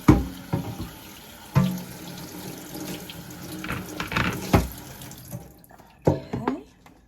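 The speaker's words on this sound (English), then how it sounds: "I want to again rinse my board" Water from a kitchen tap runs while a cutting board is rinsed in the sink, with a splashing, hissing flow interrupted by knocks and clatters of the board and a brief pause near the end.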